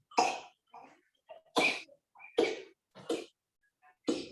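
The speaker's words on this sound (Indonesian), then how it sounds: "ada yang batuk-batuk nih" Repeated harsh coughing, about six bursts with short pauses between, close and fairly loud with small throaty sounds in the gaps.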